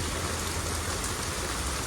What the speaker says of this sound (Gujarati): એના કરતા ભારે અમારો વરસાદ છે